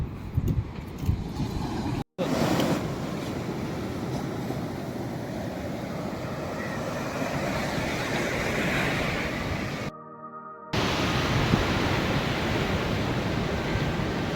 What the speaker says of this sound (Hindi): ये है चेन्नई का गोल्डन बीच, जो चेन्नई से 30 किलोमीटर की दूरी पर है।